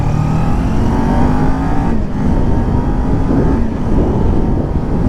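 A 2020 Kawasaki Ninja 400 with a six-speed gearbox revs steadily and loudly close by, its engine pitch climbing, dipping briefly near two seconds and rising again as it shifts up through the gears.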